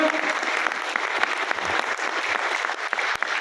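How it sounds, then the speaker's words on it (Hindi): Sustained, enthusiastic applause from a large audience at a motivational talk, a continuous wash of clapping at steady volume with no voices standing out. "एक बार इन साथियों के लिए जबरदस्त तालियां।"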